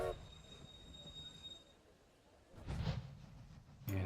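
Trains run in the railway video game Railway Empire: a soft rolling rumble with a faint wheel squeal, then louder passing bursts near the end.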